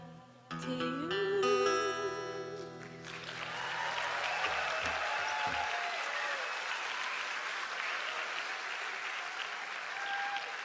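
A graduation ceremony audience breaks into a full, sustained round of applause right after a short musical passage ends, a dense wash of many hands clapping that holds steady to the end.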